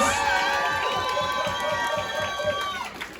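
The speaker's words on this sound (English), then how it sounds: "Round of applause for Scout" Crowd cheering and whooping at a drag competition show, loud and sustained, with several voices shouting over a steady wash of applause.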